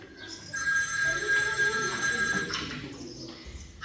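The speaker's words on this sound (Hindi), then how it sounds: "हेमा, हेमा, देख शायद भैया जी का फोन है।" A telephone rings steadily during a Kargil War dance-drama performance, a sustained electronic trill with bright tonal lines that holds for a few seconds and then cuts off, heard alone without speech.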